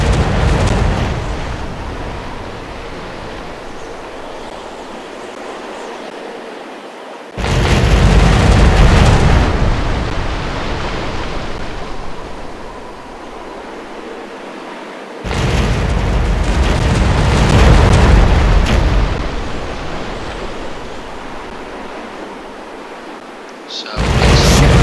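Cannon fire and cannonball explosions from a naval battle with sailing ships in a strategy game set in the colonial Americas: heavy booming bursts arrive in loud waves, separated by quieter rumbling stretches.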